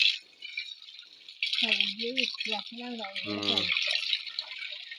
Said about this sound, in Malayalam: കൊറേ വെള്ളത്തിൽ കഴുകണം.